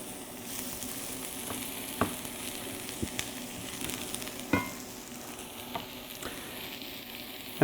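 Vegetables sizzle and crackle in olive oil in a pan, a soft steady frying hiss broken by a few sharp pops and stirring knocks, with no voices.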